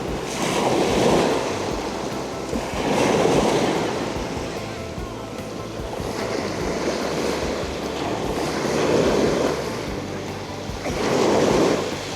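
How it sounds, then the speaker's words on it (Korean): Ocean waves at Seonnyeobawi Beach in Eulwang-ri, Incheon, at sunset roll in and recede in slow, steady swells every few seconds, with a constant wash of surf and some wind in between. "파도 소리만이 그들의 조용한 대화를 감싸줍니다."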